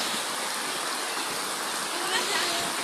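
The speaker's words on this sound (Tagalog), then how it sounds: "Lakas ng agos ng tubig." Loud, continuous rushing floodwater during heavy rain, a steady broadband roar of a strong, fast-flowing current, close by and unbroken.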